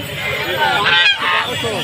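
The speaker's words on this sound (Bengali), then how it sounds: "দুই পিস চীনা হাঁস আনছে আমাদের এক দাদা" Chinese geese honking loudly and continuously at close range at a village market (haat), with harsh overlapping calls and crowd babble underneath.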